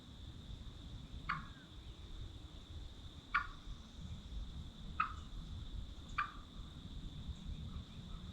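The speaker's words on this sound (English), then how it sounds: "a few of the gobblers did come through" Wild turkey gobblers gobbling out in the open, four short, fairly faint calls spaced a second or two apart over a steady low rumble of background noise, heard from a distance.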